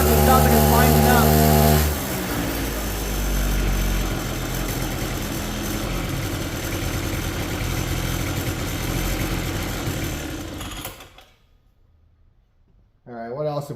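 A $50 pocket rocket minibike engine revs high and winds up, then settles into a steady buzzing run before cutting out to near silence, with voices talking nearby.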